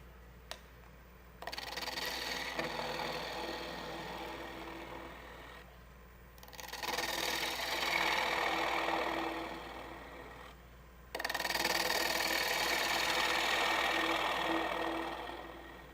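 A wood lathe spins a live edge bowl while a 3/8 bowl gouge with an asymmetric grind cuts, a steady whirring scrape that comes in three long passes with quieter gaps between.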